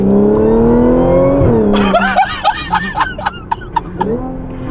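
A supercharged 500 hp 2015 Audi S4 engine idles with a high, steady supercharger whine, then revs hard in a string of quick throttle blips, up close and loud.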